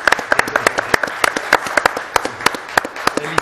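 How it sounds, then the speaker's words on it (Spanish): A small group claps in a quick, uneven burst of applause, sharp and close, lasting a few seconds. "Un aplauso."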